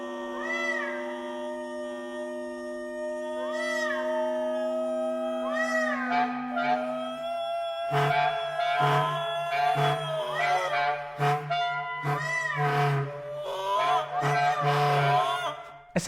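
Performers of a Carola Bauckholt piece imitate the calls of migratory birds with their voices and instruments, producing honking, goose-like and meow-like cries, some sustained and some in short repeated bursts over a low drone.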